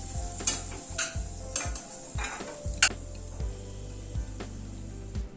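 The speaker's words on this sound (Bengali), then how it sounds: "তেল ঘিটা যেটা রয়েছে সেটার মধ্যে খানিকটা কাজু ভেজে নিচ্ছি" Cashews frying in a mix of oil and ghee in a pan while cooking chhanar pulao, with a soft steady sizzle broken by repeated stirring clicks and scrapes of a spoon against the pan, close and fairly quiet, no talking.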